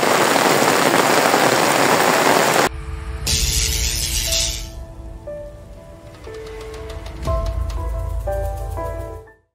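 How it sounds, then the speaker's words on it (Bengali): Heavy rain pours over flooded fields near a swollen river. It is a dense, loud, close hiss for a few seconds, then cuts abruptly to tonal music. "এখনো ভারী বৃষ্টি পড়তেছে"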